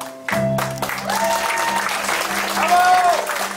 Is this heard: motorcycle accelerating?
no